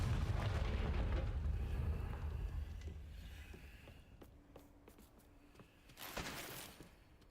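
A Confringo fire spell detonates in Hogwarts Legacy, opening with a heavy rumbling blast that slowly fades. Sharp crackles follow, then a second bright burst near the end.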